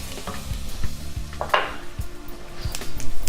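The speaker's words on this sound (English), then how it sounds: "And now I'm adding the garlic. That's 2 cloves of garlic going in." Garlic cloves tipped into softened onions frying in a pot over medium heat, with a soft sizzle under repeated scraping and knocking of a utensil against the pot.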